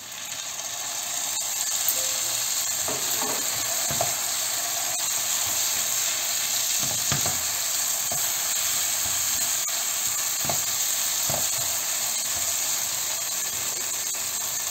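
Bulgur and tomato in a pan give off a steady, loud hiss and sizzle with occasional faint stirring clicks.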